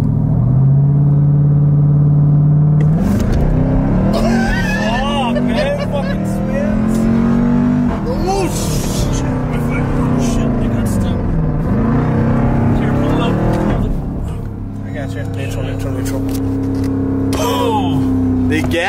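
A Jeep Grand Cherokee Trackhawk with its gas pedal stuck roars at high revs, the engine note climbing and holding loud and close under excited, alarmed talk from people inside, then settling to a lower drone near the end.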